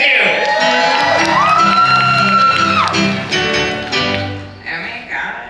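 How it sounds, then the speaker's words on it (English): A live audience at a Knott's Scary Farm puppet show cheers, whoops and shouts loudly and continuously, with the crowd noise slowly tapering off toward the end. "Let's give them some applause"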